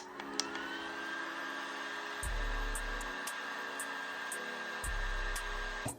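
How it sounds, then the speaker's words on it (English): A small handheld mini fan whirs steadily up close as it dries the seal on DIY lash clusters, its hum shifting pitch twice as the motor changes speed, with faint clicks over it. "I'm going to use my mini fan to dry the seal."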